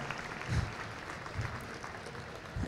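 An audience at a hypnosis stage show applauds the next participant, a soft, fairly distant patter of clapping with a few louder thumps.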